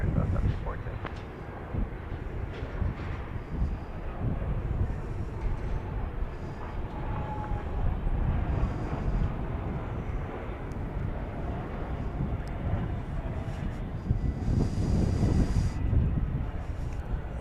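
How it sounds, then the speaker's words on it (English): A Cessna 680A Citation Latitude business jet arriving from Jackson, Mississippi roars at Dallas Love Field, a broad rumbling jet noise with wind buffeting, swelling toward the end while radio and voices speak over it. "That was a Cessna 680A Citation Latitude."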